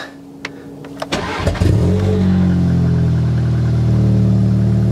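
A forged Audi S3 8V cranks and fires on a cold start, with a few sharp clicks and a brief crank before the engine catches and settles into a loud, steady, slightly spluttering idle.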